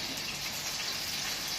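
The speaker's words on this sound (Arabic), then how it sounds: "هنا الزيت بيقدح، هنا الزيت بيقدح." Hot oil sizzles softly and steadily while breaded panné fries, a quiet, constant crackling hiss much like light rain.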